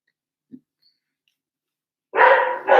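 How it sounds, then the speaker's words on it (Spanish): A pet dog barks twice near the end, loud and close: two quick rough bursts after a long near-silent stretch broken only by one small tap. "Ahí lo pueden escuchar ladrar un momentito."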